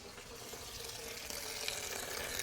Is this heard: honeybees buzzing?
no